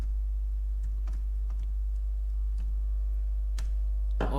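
Someone types on a computer keyboard, producing sparse, distinct key clicks at an irregular pace, with a short burst at the end over a low steady hum.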